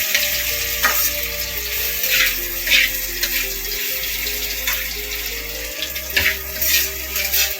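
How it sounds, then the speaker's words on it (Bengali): Potatoes fry in hot oil with a loud, continuous sizzle and crackle close by. Occasional scrapes and stirring sounds break through the sizzle. "তাই আলু ভেজে নিচ্ছি একটু"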